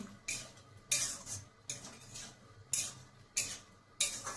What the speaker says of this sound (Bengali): এখন আমি এর মধ্যে দিয়ে দেবো অল্প একটু মিষ্টি, মানে চিনি দিয়ে দিচ্ছি। দিয়ে নেড়ে দিচ্ছি।